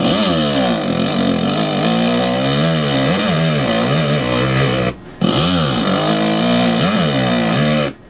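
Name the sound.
motorcycle engine throttle revving, from video game MX vs ATV Alive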